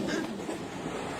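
A moving train rolls along the rails in a Telugu film scene, giving a steady, continuous rumble with faint rattling throughout, no voices audible.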